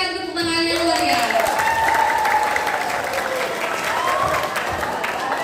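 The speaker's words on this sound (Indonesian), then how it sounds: "Berikan tepuk tangan yang meriah." Applause from a seminar audience welcomes a motivational speaker at a Youth Pledge Day event, a dense steady clatter of clapping holding for several seconds, with a few voices and cheers rising above it.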